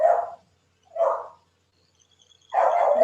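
Dogs bark in three separate bursts, close and fairly loud, with quiet gaps between them and faint insect chirping in the background.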